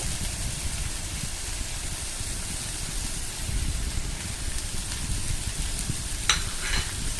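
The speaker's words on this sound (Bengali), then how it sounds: "পেঁয়াজ দিয়ে নেড়ে চেড়ে দিব" Okra and onion frying in a pan, stirred with a spatula: a steady sizzle under soft scraping strokes, with a few sharper clinks near the end, close and without talk.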